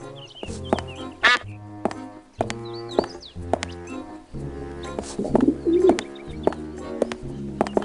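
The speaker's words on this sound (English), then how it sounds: "It's a rather unspectacular duck." A cartoonish duck quacks and coos in short nasal bursts over a bouncy musical score in Escape from Monkey Island, the calls repeating irregularly and sitting close and clear above the music.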